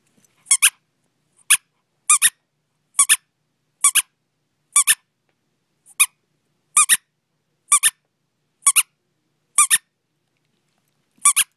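A dog's squeaky toy squeaks in short paired bursts, about a dozen sharp, high squeals spaced roughly a second apart against near silence, loud and close during play with a dog visiting a nursing home.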